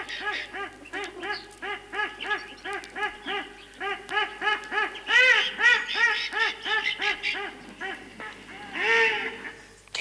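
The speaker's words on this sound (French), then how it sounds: "C'était des canards." Recorded ducks quack over and over in a loud, steady stream of nasal calls, a dense flock heard close and continuous for about ten seconds with no talking.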